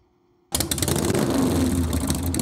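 Motorcycle engine noise opens a rock song, a sudden loud, steady engine roar that cuts in after a moment of near silence and holds throughout.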